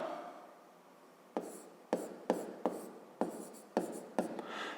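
A pen scratches across paper in quiet surroundings, a faint hiss followed by a series of seven or eight short, sharp strokes, each one crisp and close, with no voices.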